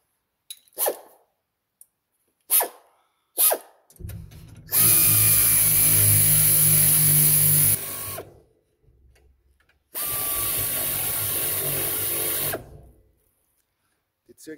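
A power tool whirs in two long bursts of several seconds each while parts of a Pöttinger Aerosem maize seed drill are screwed together, preceded by a few sharp clicks and knocks of handling the parts.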